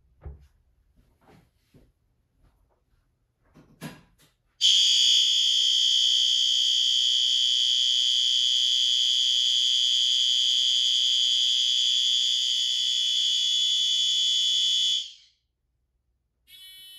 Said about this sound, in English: I will close the door and go ring my horn.